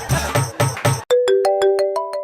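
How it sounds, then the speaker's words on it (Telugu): A phone rings with an incoming call, a loud electronic ringtone of repeated tonal bursts, first as four rhythmic pulses and then as a sequence of sustained rising notes, alone with no talk. "మన సీనియర్ ఫోన్ చేస్తున్నాడు రా"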